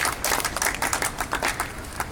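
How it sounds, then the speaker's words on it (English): Light, uneven clapping from a small group cheering children dressed as pirates, a few seconds of scattered claps in a quiet room. "Let's have a round of applause for our pirates."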